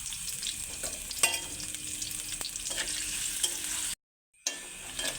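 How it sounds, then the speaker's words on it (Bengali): Chopped onions fry in oil in a wok, giving a steady close sizzle with a few clinks of stirring. The sound drops out briefly near the end, then the frying resumes. "তেল দিয়ে দিয়েছি, পেঁয়াজ কুচি দিয়ে দেব। পেঁয়াজটাকে একটু লাল লাল করে ভালো করে ভেজে নেব।"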